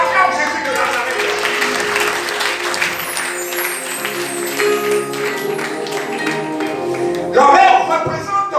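A church congregation applauds during a sermon, sustained clapping filling the room at moderate loudness, mixed with voices and a musical tone underneath, swelling briefly near the end.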